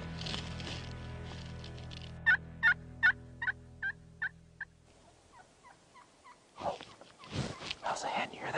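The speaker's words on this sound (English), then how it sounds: "Just like that, a hen responded." Wild turkey hen calling in the open, a run of six sharp, evenly spaced yelps at moderate distance, followed by softer calls with someone speaking quietly nearby.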